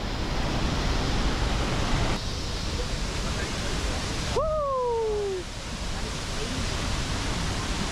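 Steady, loud rushing water from a Costa Rican waterfall fills the scene as a continuous broadband roar, with a brief hooting call rising over it midway.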